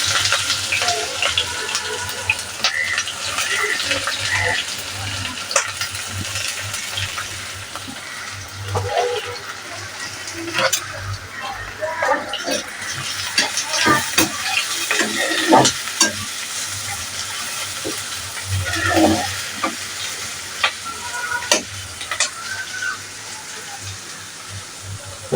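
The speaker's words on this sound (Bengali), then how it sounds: "চুলার আঁচটা লো লেভেলে দিয়ে রাখতে হবে পেঁয়াজটা ব্রাউন কালার করা পর্যন্ত" Onions browning in a pan over low heat, a steady soft sizzle with frequent scraping stirs and clinks throughout, close and continuous with no voices.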